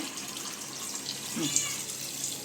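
A faint, steady hiss of hot water being poured, soft and close, lasting a couple of seconds before stopping abruptly.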